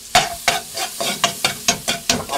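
Garlic sautéed by hand in a seasoned wok is heard as a string of sharp, rhythmic scraping stirs about every third of a second, each with a quick burst of crackling oil, close and loud, with no talking.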